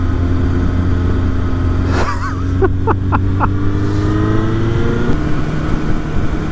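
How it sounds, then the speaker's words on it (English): A small Hyundai car revving hard while doing burnouts up a hill, a sustained engine drone with rising rev sweeps and a sharper burst of whine in the middle, loud and fairly close, no talking. "Little Hyundai just ripping, doing burnouts right up the hill"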